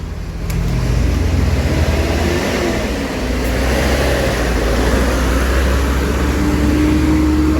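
Scania buses with Jetbus HD bodies pull away from a Sempati Star ticket terminal on Soekarno Hatta in a convoy, their heavy diesel engines droning steadily and loudly nearby.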